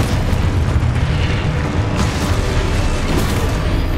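A Confringo blasting spell goes off in Hogwarts Legacy on PS5, a loud, sustained rumbling explosion with crackling bursts that fills the whole moment without pause.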